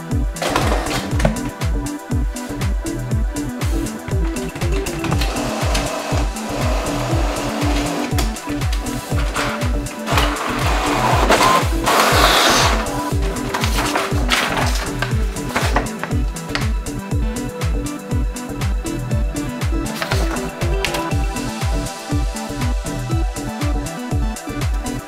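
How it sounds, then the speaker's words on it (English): A Canon PIXMA TS8320 inkjet printer runs a print job: a continuous close mechanical whir with rapid rhythmic clattering that keeps going for about twenty-five seconds, with a brief louder swell midway. "Hi, I am here printing for you."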